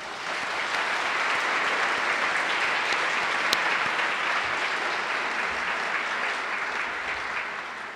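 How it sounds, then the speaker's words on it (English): Warm audience applause at a City Club forum on ending homelessness, sustained dense clapping from a large crowd that swells in and holds steady for several seconds. "Please join me in a warm round of applause for all of them."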